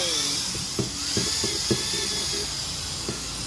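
A repaired electric drill, fixed after an electrical short, runs with a steady high-pitched whine, close by, with a few light knocks and clicks scattered through.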